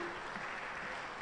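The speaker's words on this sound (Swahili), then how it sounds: "Naomba makofi ya nguvu kwa wanawake wenye ushawishi" Steady, dense audience applause fills a hall at a national energy debate, sounding fairly soft and unbroken throughout with no voices over it.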